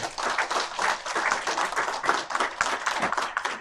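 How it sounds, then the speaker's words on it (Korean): Audience at a university agreement-signing ceremony breaking into applause, dense overlapping clapping that swells and pulses in waves, fairly close and filling the hall without talk. "장내에 계신 모든 분들 뜨거운 박수로 자축해 주시기를 부탁드립니다"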